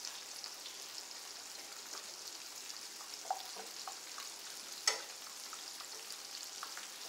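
A mixture is whisked in a bowl as a steady, faint, fast swishing with a few light clicks, close and continuous, and no voices over it.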